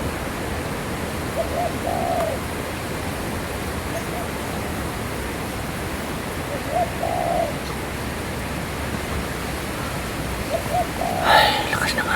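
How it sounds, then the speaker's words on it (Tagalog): Strong wind blows outdoors in steady broadband rushing noise, with a few faint bird calls near and far. "Ay, lakas ng hangin."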